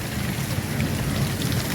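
Dense, loud, continuous downpour during a windy thunderstorm with hail in Bagasara, a steady roar of rain with a low rumble underneath.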